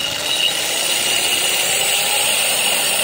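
A power drill bores into a stone lotus planter with a loud, steady, high-pitched grinding whine that holds unbroken throughout, close up and with no talking.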